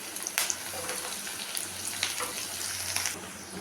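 Beans and vegetables with salt sizzle softly in a pan, a steady low frying hiss with faint clinks and stirring scrapes, heard alone without talk.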